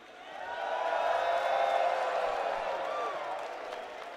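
A large crowd at the EVO 2025 finals for Fatal Fury: City of the Wolves cheers and applauds in a steady, swelling roar that holds for several seconds before slowly easing off.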